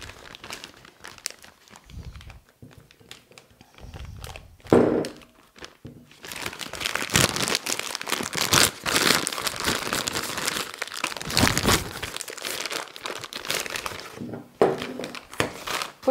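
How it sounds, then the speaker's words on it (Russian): A plastic piping bag fitted with a 124K nozzle crinkles and rustles close up as cream is spooned into it, with soft irregular crackles and occasional thunks, quieter at first and then busier and louder. "Закладываем крем в пакет."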